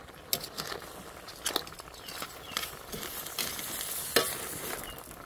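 Shrimp frying in a crowded pan are stirred, producing a moderate sizzle with irregular scraping and clattering strokes of the spoon against the pan.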